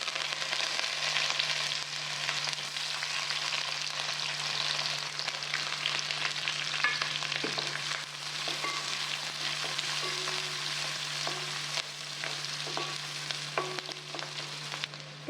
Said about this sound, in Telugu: పోపు చిట్పట్లాడాక ఉల్లిపాయలు పచ్చిమిరపకాయలు కరివేపాకు